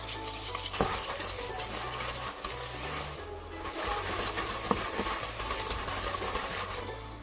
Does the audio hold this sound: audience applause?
no